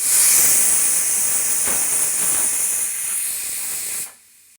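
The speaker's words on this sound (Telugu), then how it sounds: "మీరు మీ కుక్కర్ని బట్టి మీరు విజిల్స్ ఎక్స్ట్రా పెట్టుకోండి" A loud, continuous hiss of escaping steam from a pressure cooker whistle, steady for about four seconds before cutting off sharply.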